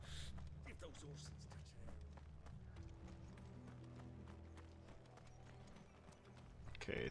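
Horses trotting in Final Fantasy XVI make a steady clip-clop of hooves that runs throughout, fairly quiet, layered with game ambience and other background sounds.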